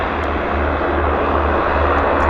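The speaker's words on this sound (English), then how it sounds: "This is our first passenger arrival of the show. Pacific Coastal nabs that" Pacific Coastal propeller passenger plane arriving at Vancouver airport, a loud continuous engine roar with steady low drone, close and alone without talk.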